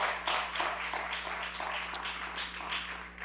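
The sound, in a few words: audience applause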